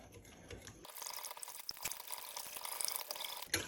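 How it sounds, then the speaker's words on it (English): A whisk stirs a frothy sourdough starter mixture in a bowl, making a quiet wet sloshing and swishing with faint clicks, continuous for a few seconds, close and low. "This is the whisk that I use, and you just stir it all together."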